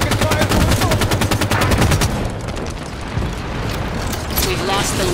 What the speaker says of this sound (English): Taking fire from the soldiers!